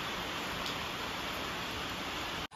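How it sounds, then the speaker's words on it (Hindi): Heavy rain pours steadily in a continuous, dense hiss, loud and close, with no break until a brief cut at the very end and no talk. "खतरनाक बारिश हो रही है आज"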